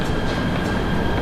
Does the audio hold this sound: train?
yes